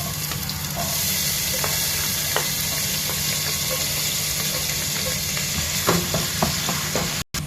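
Sliced onion tossed into a hot pan with garlic gives a loud, continuous sizzle close up, with scattered stirring clicks and a brief cutout near the end, no speech.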